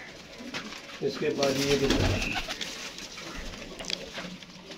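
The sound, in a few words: pigeons in rooftop coops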